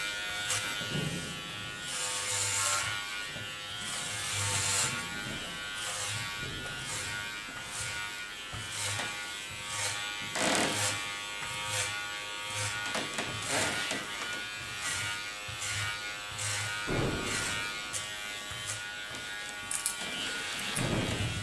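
Electric hair clippers buzzing through hair for a short pixie clipper cut, a steady close motor hum that rises and dips in brief bursts as the blades pass over the head.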